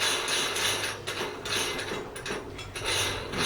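A bathroom sink being fastened down with screws, giving a steady close rasping, ratcheting grind of metal biting into material, with short pauses between turns.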